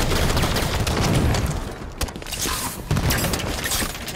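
A grenade blast in the Halo video game: a loud, dense roar of shattering, crackling noise that fills the whole moment, dipping briefly and then surging again.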